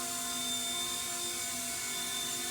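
A repaired MD500 helicopter hovers low over smooth concrete outdoors, its steady turbine whine and rotor drone continuous and unbroken, nearby and alone without voices.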